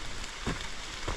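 Rain falls steadily on the Appalachian Trail, a dense, even hiss close around with a couple of heavier thuds and no talk.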